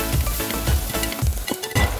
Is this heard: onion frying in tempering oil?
yes